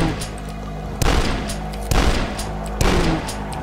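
Gunfire in the retro shooter Dusk: three loud, sharp bursts about a second apart, each a booming shot with a brief decaying tail, with no talking over them.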